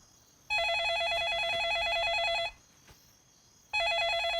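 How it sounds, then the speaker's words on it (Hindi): A telephone rings in two bursts of electronic trilling, a long two-second ring, a pause, then another ring starting, close and clear with a faint room hum between and no talk. "घंटी जा रही है।"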